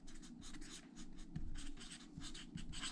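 Pencil writing music notes by hand on paper, close and quiet scratchy strokes in short repeated bursts with small taps, no talking.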